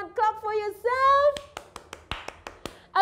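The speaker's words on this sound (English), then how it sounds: "If you have enjoyed the lesson, clap for yourself." Young children at a Sunday school lesson clap for themselves with a few sharp, evenly spaced claps, coming right after an adult voice and a voice are heard speaking.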